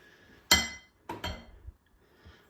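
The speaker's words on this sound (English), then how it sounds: "Let me take this out of the vise so I can get you a close up." Metal airgun barrel being loosened and pulled from a bench vise, giving two sharp clanking knocks close by, the second followed by a few lighter rattles before quiet.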